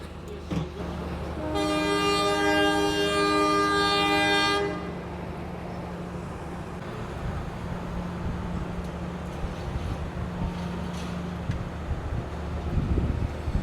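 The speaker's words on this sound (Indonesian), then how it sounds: "Propowangi mulai berangkat dari stasiun Probolinggo melanjutkan perjalanan ke Ketapang, Banyuwangi" Probowangi passenger train pulling out of Probolinggo station bound for Ketapang, Banyuwangi: a loud, sustained horn blast of about three seconds, then a steady rumble of wheels and engine that continues to the end.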